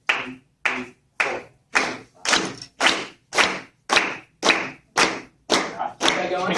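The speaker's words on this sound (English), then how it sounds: "The whole class, the whole class, I like you to just clap quarter notes." A class of students clapping steady quarter notes together in a classroom, eleven crisp, evenly spaced claps in a firm beat, each a sharp burst of many hands, the later ones slightly looser and longer.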